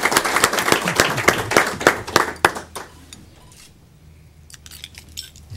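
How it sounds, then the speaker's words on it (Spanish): A burst of hand clapping from a crowd at a Chilean fire brigade ceremony, dense and loud for a few seconds, then thinning to a few scattered claps before fading. "Un aplauso, por favor."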